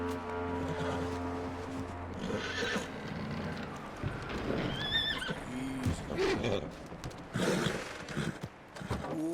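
A horse in Red Dead Redemption 2 whinnies loudly with a high, wavering neigh, alongside hoof clip-clops and a low engine-like drone in the background.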